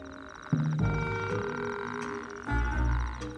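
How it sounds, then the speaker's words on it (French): Loud, resonant Arabian toad croaks, amplified by its swelling throat pouch, ring out in long buzzing bursts across a wadi, close by, with a short break before the calling resumes. "La poche située au niveau de sa gorge enfle pour amplifier le son, faisant résonner ses cris dans tout l'Oued."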